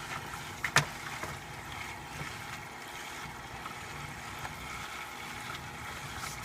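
A backyard pool filter pump priming itself beside a DIY surface skimmer gives a steady, moderately close mechanical hum with a soft watery rush and a couple of small knocks, with no talk.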